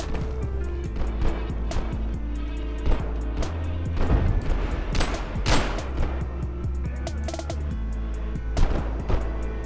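Enemy gunfire in the video game Abiotic Factor, a flurry of sharp shots and bursts coming at a moderate distance, irregular and clustered, with no speech over them.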